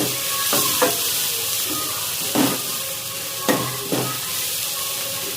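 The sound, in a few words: stirring tomatoes cooking in a pan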